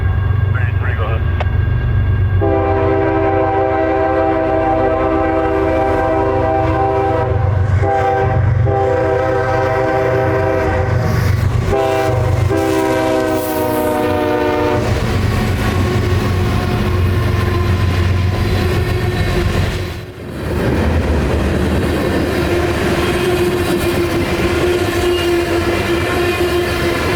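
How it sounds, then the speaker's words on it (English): Freight train 583 led by three DC Gevo locomotives hauling mixed freight, with a long sustained horn sounding over steady engine rumble and rolling wagons, close and loud throughout. "583 would arrive as well, with its 3 DC Gevos leading a string of mixed freight bound for Hamlet, North Carolina"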